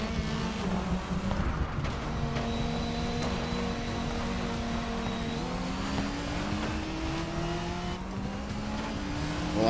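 A race car in GRID Legends roars continuously at high revs, its engine tone rising through gears with audible upshifts, dense and loud throughout with a faint high whine on top and no speech.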